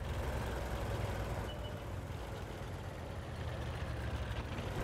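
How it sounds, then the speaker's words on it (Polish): A tank destroyer's engine in the video game World of Tanks drones as a steady, rumbling roar with a low, gritty texture, holding an even level throughout with no voices. "śmiesznie brzmi tutaj dźwięk silnika"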